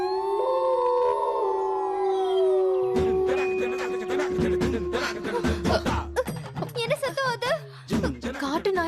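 A human voice imitates a dog or jackal howling, sustained and wavering at first, then breaking into rising yelps and cries, loud and close, with other voices joining briefly.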